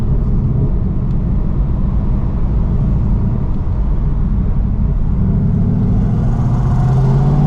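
At a drag strip and dyno event, a car engine approaches with a steady loud rumble and whir that swells slightly toward the end as it pulls up close.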